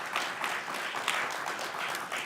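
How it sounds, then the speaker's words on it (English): Steady, moderately faint applause from an audience on Capitol Hill, honoring an ambassador's work, a dense wash of clapping without pause. "Please, a round of applause for her remarkable work."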